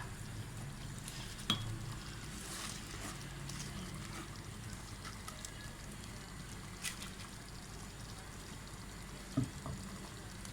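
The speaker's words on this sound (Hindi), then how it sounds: "अब इसमें मैं चावल डाल रही हूँ।" Rice pouring into a pot of lentils for a sabut masoor dal pulao, a soft steady granular rush running throughout with a few brief clinks near the start and end, close and fairly quiet, no voices.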